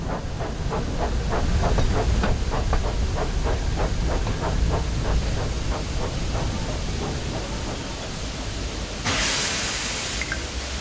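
A steam engine on the railway gives off a steady, loud broadband hiss with rapid rhythmic chuffing pulses in the first half, then a brighter burst of hissing steam near the end, with no voices.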